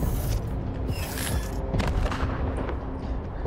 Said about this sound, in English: a missile randomly flying by